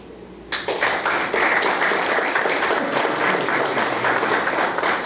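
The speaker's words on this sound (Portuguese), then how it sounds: "o senhor merece o respeito e o nosso aplauso" An audience at an evening event in a hotel breaks into sustained applause, a dense, loud wash of many hands clapping that starts abruptly and continues steadily to the end.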